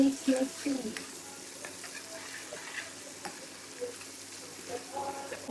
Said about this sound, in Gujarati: મીઠું અને હળદર એન્ડ મિક્સ.